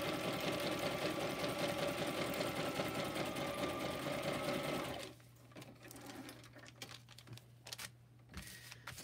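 A sewing machine runs steadily for about five seconds, stitching a junk journal tablet, with a loud, fast rhythmic whirr up close before stopping and leaving quiet handling noises.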